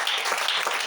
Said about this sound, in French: Acclamons pour nos hommes.